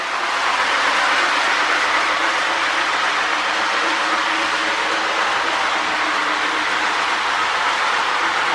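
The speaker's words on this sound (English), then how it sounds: "I love those Rail Sounds tenders. They just really make these old Lionel behemoths come alive." Lionel 2065 model train running with a Rail Sounds tender, giving a steady, loud, continuous rumble and rail clatter that holds evenly throughout with no talking.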